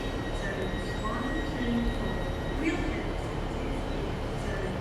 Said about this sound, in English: we got the Great Eastern Railway service to Paignton coming in